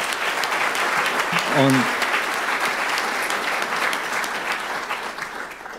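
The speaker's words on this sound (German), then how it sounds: "das ist auch mal ein Applaus wert." A lecture audience breaks into dense, sustained applause that holds steady for several seconds, loud and close. A single voice briefly speaks near the start.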